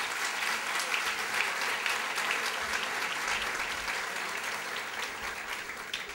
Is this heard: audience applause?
yes